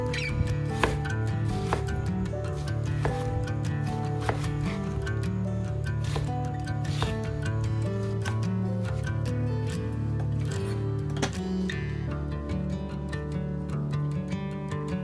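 A knife slices through onion on a cutting board, giving a run of crisp, regular cuts and taps close by, set against a steady tonal background with no talk.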